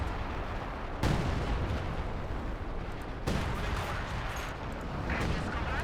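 Incendiary artillery from a Company of Heroes 2 battle lands as two sharp, booming impacts a couple of seconds apart over a constant rumble of distant gunfire, while someone talks throughout.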